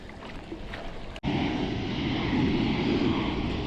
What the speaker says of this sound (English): There's a jet that's just starting to take off right now.